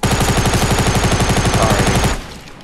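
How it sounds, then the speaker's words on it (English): Rapid automatic gunfire from the video game Fortnite, a loud, steady burst of evenly spaced shots that runs for about two seconds and then cuts off abruptly into quiet. "I thought somebody was shooting me underneath"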